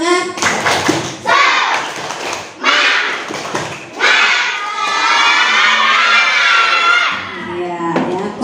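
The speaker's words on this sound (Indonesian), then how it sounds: "Coba yuk tepuk semangat." A classroom of fourth-grade schoolchildren at an Indonesian elementary school chant a spirit clap routine, loud shouted rhythmic phrases in bursts punctuated by group clapping, close and energetic.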